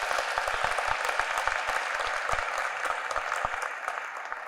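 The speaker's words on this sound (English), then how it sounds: "Give a round of applause to Dr. Roy." A convocation audience at Emory University applauds steadily, a dense spread of claps that holds level for several seconds before easing off slightly, with no voices over it.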